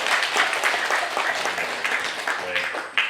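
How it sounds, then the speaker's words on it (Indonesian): At a wedding ceremony, guests give the newlyweds dense, steady applause that fills the room for several seconds, with faint voices underneath. "marilah kita sambut keluarga baru ini dengan aplaus dan tepuk"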